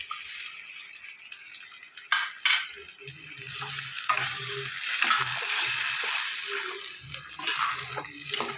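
Chopped tomato goes into ginger and green-chili paste frying in a pan for jackfruit and prawn curry, raising a steady hiss and sizzle with scattered clatters of stirring and a few louder knocks, with no one talking.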